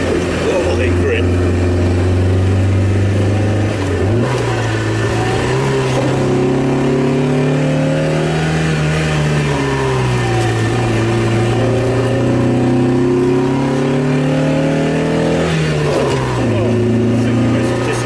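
An Alfa Romeo 1900 SS on racing tyres drives the Mille Miglia road race, its engine droning loud and steady with rising and falling pitch as it shifts through gears.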